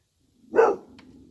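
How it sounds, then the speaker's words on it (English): A bulldog by a lake barks once at a duck, a single close, sharp bark followed by a quiet tail of outdoor ambience. "Honey, don't bark at that duck."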